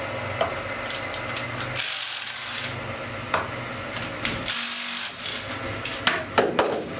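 Hydraulic fixture locators extract on a modular fixture plate, producing close scraping and rubbing mechanical noise broken by a few short clunks and pauses.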